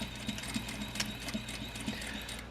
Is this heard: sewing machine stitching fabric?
yes